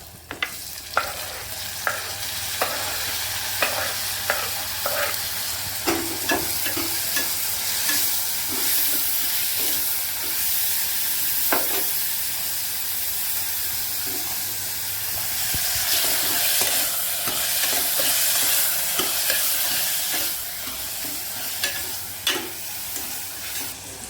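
Tomatoes sizzle and fry in a pan for a Kongunadu-style carrot and bean curry, with a steady hiss of frying broken by frequent scraping stirs of a spoon against the pan, close and fairly loud, with no talking.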